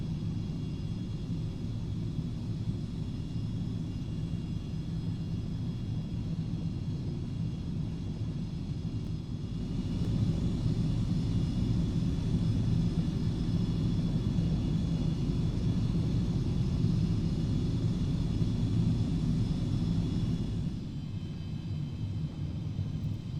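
A Carenado 390 Premier 1A business jet taxiing in X-Plane 11 gives a steady, loud low engine rumble with a faint high whine, swelling slightly midway and holding constant with no talk.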